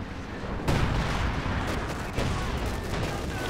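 Sturmpanzer IV bunker buster artillery barrage in the real-time strategy game Company of Heroes 2, heard as dense, loud overlapping booms and crackling gunfire, with sharp blasts near the start and again midway.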